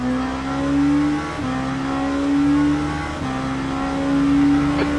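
Race car engines in the Le Mans Ultimate sim game drone steadily at high revs, with brief dips as gears change twice, the tone climbing again after each shift; no one talks over it.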